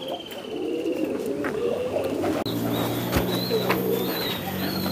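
Pigeons coo in soft, repeated throaty phrases, several birds overlapping at close range, with a few higher chirps and brief wing or movement noises around them.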